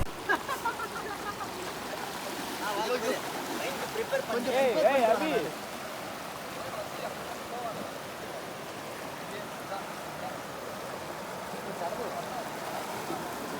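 Forceful stream water in the hills of Valparai, rushing knee-deep around a person standing in it, a steady close wash of noise with a brief voice early on.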